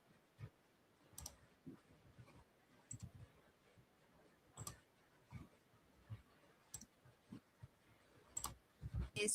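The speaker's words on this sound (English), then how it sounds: "I hate this keyboard." Quiet, irregular clicks of typing on a computer keyboard, with scattered keystrokes and small bursts.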